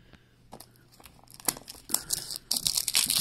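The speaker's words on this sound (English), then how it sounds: "Okay, first thing, like, break that plastic." Plastic shrink wrap crinkled and torn off a Nintendo Switch game box, close up, with quiet rustling at first and then louder, dense crackling tears that build toward the end.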